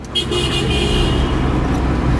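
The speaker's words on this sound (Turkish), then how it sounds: "bir takipçim korna çaldı herhalde" A car horn sounds briefly over steady road and engine noise from inside a moving vehicle.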